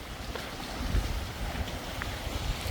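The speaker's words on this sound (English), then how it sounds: "it's getting a little stormy, so it's really windy" Strong wind roars steadily across a stormy mountain hiking trail in Grand Teton National Park, a loud, continuous buffeting rush with gusty swells and no voices.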